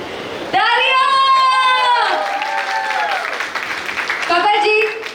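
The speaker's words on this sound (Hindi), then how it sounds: "तालियां!" Wedding guests applauding at a sangeet ceremony, a steady wash of clapping running under loud, close voices that talk over it throughout.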